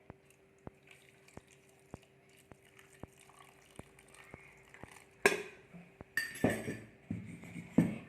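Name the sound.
pouring cold water into a drink mixture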